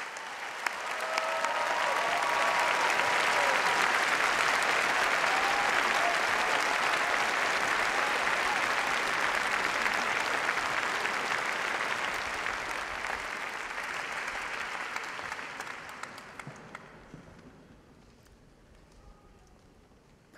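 Large audience at a university graduation ceremony applauding the graduates, sustained loud clapping that swells, holds, then gradually thins and fades out near the end.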